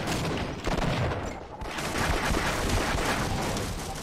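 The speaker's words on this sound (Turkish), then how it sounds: "Pompalı zamanı." Continuous dense gunfire from a first-person shooter match of Half-Life online, with repeated loud blasts crowding together for several seconds, a brief dip midway before the barrage resumes at full intensity.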